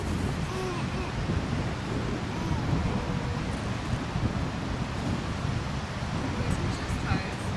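Steady wind buffeting a microphone on a coastline, with a dense broadband rush of gusty wind and possible surf running continuously at moderate level throughout.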